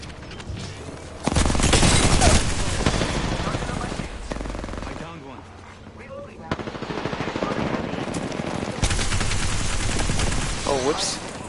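Enemy gunfire in Apex Legends on Kings Canyon: loud bursts of automatic fire and rapid shots, with dense volleys and brief lulls, mixed with game effects and a player talking over it.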